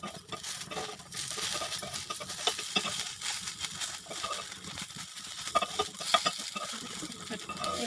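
Pumpkin flower fritters fry in a pan with a steady, fairly quiet sizzle, joined by frequent scraping and clinking of a utensil turning them, close up with no talking.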